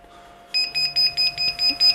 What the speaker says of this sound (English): the Kk2 is start beeping